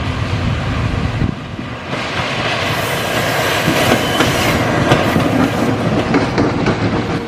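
A toy CC206 railway locomotive runs continuously, giving a steady close rattling, clattering rumble with a clickety-clack texture and no voices.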